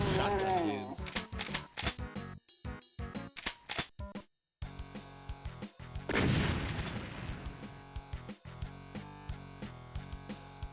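Enemy shotgun blasts and rapid gunfire in the video game Doom, a dense run of sharp, punchy shots with a brief silent gap and a big booming blast, set against loud game music.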